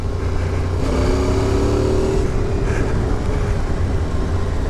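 An off-road motorcycle rounds a corner on a dirt trail, its engine a loud, close drone that rises in pitch briefly and then holds steady amid rumbling wind noise.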